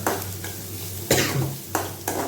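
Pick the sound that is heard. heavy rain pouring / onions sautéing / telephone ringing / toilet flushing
onions sautéing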